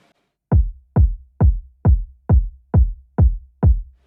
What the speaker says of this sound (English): The kick without my processing would sound like this.